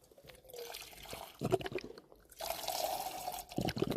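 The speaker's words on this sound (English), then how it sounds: "Let's go put some water in here." Warm water is poured from a bottle into a pack of instant noodles at a backpacking campsite, giving a few close, gurgling pours with short pauses between them and no talking.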